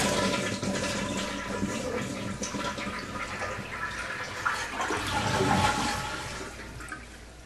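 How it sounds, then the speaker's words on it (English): A household toilet flushing after its water supply has been shut off, a loud rushing and gurgling of water that swells and churns across the whole stretch, heard up close with no talking. "Okay, I'm going to flush this,"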